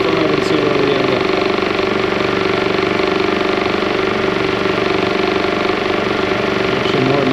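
A John Deere engine runs steadily, driving a high-output Delco Remy generator under load at about 1455 RPM, a loud continuous drone with a constant tone that holds even throughout.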